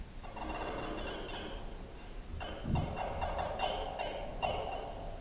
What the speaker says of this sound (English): just me running the backs of my fingernails across the wires in an open piano